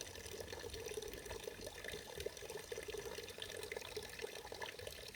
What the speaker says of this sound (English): you can see how the water flow instantly increases